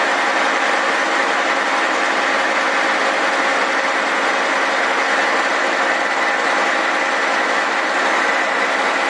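Milling machine spindle running steadily while resurfacing a Willys F cylinder head, a loud, dense, continuous mechanical whir and grinding hum holding level throughout with no pauses.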